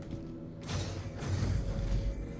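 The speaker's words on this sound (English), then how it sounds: "I can hear some doors opening." Doors in Star Citizen open with a low mechanical creak and rumbling slide, a steady machinery drone swelling midway and continuing to the end, with no speech.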